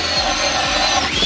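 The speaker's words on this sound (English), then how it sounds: "Still drilling holes." Power auger drilling holes in ice for night crappie fishing: a continuous loud whirring grind with the pitch wavering steadily, close up and without voices.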